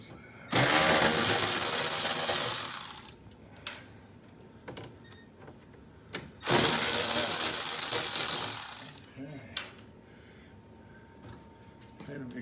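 A power ratchet zips bolts out of a 2019 Toyota Prius C during a hybrid eCVT fluid change. Two loud, sustained buzzing runs of about two to three seconds each are separated by quieter clinks and handling noises.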